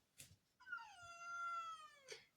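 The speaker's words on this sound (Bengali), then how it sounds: "ম্যাও ডাক শোনা গেছে।" A pet cat indoors gives a single drawn-out meow, clear and close, framed by faint soft rustles before and after.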